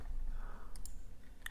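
Two or three crisp, close mouse clicks while working in Blender, sharp isolated ticks over a faint steady room hum, no voices.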